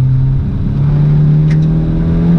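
A car accelerating as the driver presses the gas during braking practice, a steady loud engine drone rising slightly in pitch, close and continuous with no talk.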